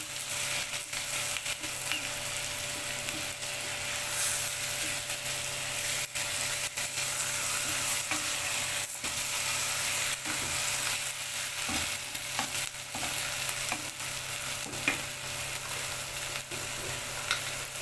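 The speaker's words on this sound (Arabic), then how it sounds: "هنا بقى اللحمه اتشوحت كليا والبصله" Meat and onion sautéing in a pan, a steady low sizzle with occasional stirring scrapes, fairly quiet and continuous, no talking.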